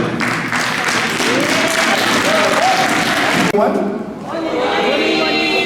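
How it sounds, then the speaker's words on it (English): Audience applause at a neighbourhood watch gathering, steady clapping with some voices underneath that cuts off abruptly partway through, followed by quieter room sound. "If you guys can please round of applause for our Dr. Wayne."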